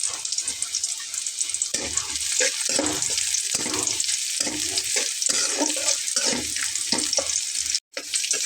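Onion and garlic fry in hot oil for a fish and aubergine curry, a bright continuous sizzle punctuated by repeated scraping strokes of a spoon in the pan, with a brief gap near the end.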